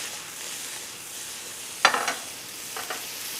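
Pancetta sizzles and browns in a pan for spaghetti carbonara, a steady close frying hiss with brief louder crackles and stirring bursts partway through. There is no talk.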